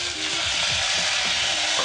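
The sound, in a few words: peppers and black beans sizzling in a hot pan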